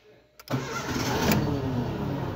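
A 2007 Ford Fiesta with an immobilizer fault cranks and catches after a short click, then settles into a steady, close idle-like engine note that runs continuously to the end with no talking.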